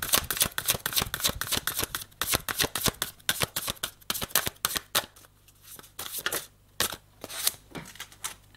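Tarot cards are shuffled by hand for a card reading, a run of quick crisp riffling bursts and soft flicks repeating in uneven rhythm, close and clear, with no talk.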